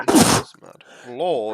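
A sudden, forceful sneeze bursts out at the start of a Pathfinder tabletop game session, followed by a few quieter words from a voice.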